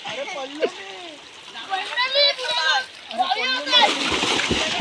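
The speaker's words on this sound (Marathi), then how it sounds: "इकडे बारके पोरं पोहतात आणि हा बघा एवढ्याच पाण्यात जातोय" Children swim and splash in shallow water during a bathing outing in the Konkan region, with irregular splashes and sloshing close by under lively chatter from children and adults.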